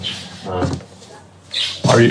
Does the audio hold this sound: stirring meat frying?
no